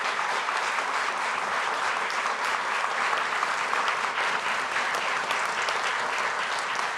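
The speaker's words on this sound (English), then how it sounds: "Let's give them a round of applause" Sustained audience applause fills a hall after a Kentucky governor debate between Andy Beshear and Daniel Cameron, dense and steady clapping at an even loudness from start to finish.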